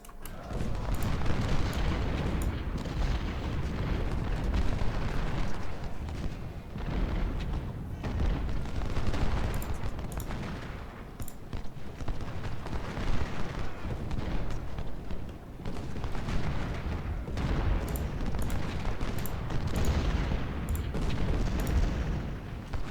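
Civil War cannon and artillery fire at the Battle of Chancellorsville in Ultimate General: Civil War, a dense, continuous rumble of booms and gunfire with repeated sharper cracks, loud and sustained throughout.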